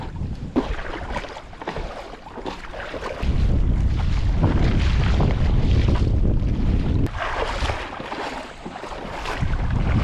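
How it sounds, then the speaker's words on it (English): Heavy wind rumbles and buffets the microphone continuously, surging louder midway, with water sloshing faintly beneath the gusts, while paddleboarding over shallow coastal flats. "It is so windy. It just picked up and blowing right in my face."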